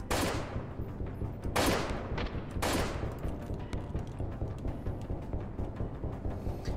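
Distant gunfire in Freeman: Guerrilla Warfare, with a few sharp shots at about 1.5 s, 2.2 s and 2.7 s rising over a faint, continuous crackle of rounds and a low background rumble.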